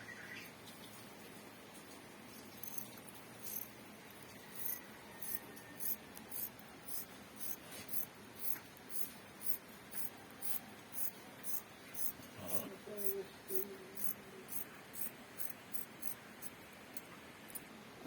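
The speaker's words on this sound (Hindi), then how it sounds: "सबसे पहले ये फालतू कपड़ा काटेंगे हम।" Fabric being cut with scissors while trimming away excess cloth from a drafted salwar pattern, a steady series of short crisp snips repeating in a regular rhythm, close and fairly quiet, with no talking.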